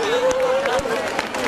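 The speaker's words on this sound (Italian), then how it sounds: "accogliamo con un grossissimo applauso il gruppo Sicilia Nostra" A crowd applauds to welcome the Sicilia Nostra folk group at a Sicilian festival in Saronno: dense, steady clapping with crowd noise and a voice over it throughout.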